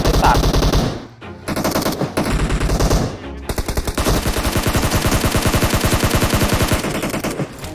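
Rapid automatic gunfire from the mobile battle royale game PUBG Mobile rattles in long, dense bursts, loud and close, with brief gaps between volleys.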